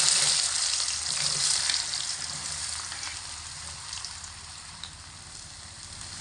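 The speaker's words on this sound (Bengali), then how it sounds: "গরম তেলের মধ্যে দিয়ে দেব কেটে রাখা আলু।" Cut potatoes frying in hot oil in a pan, a steady loud sizzle and crackle that continues alone throughout and eases slightly toward the end.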